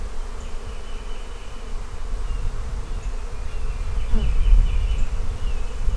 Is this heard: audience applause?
no